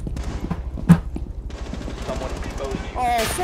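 Rainbow Six Siege gunfire shooting through a wall sounds as a short burst of sharp shots, followed by busy game effects and a rising tone near the end.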